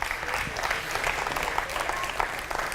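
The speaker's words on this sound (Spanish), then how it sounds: "Si Cristo Jesús te dice amén, dale fuerte ese aplauso" Church congregation applauding during a Spanish-language sermon, a steady wash of hand claps at moderate level with no break across the short stretch.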